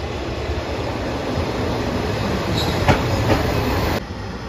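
A JR Shikoku 1000 series diesel local passenger train rumbles steadily along the rails, with a few brief metallic squeaks near the end before the noise drops slightly.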